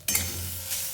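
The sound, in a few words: stirring grated coconut filling in a pan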